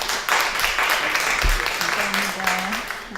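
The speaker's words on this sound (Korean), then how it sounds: "박수 마음껏 치세요" Audience applause after a poetry recitation at a community radio broadcast event, a warm clatter of hands with voices talking and laughing over it, fading near the end.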